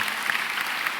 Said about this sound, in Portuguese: Uma salva de palmas para os nossos coroinhas